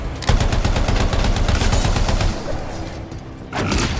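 Dense, sustained automatic gunfire in the sci-fi shooter game Anthem, rapid overlapping bursts filling most of the clip, easing briefly near the end before another burst resumes.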